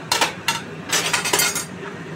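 A metal lid clatters onto a cooking pot of simmering prawns for a Bengali prawn and potato curry, giving a few quick, close clinks and rattles in separate bursts.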